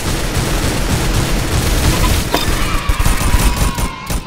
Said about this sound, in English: Like a laser rifle.